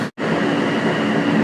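Interior rumble of an R160 New York City subway car on a Brooklyn-bound N train via the Second Avenue line, a loud steady roar continuing after a brief silent gap near the start, with no talk.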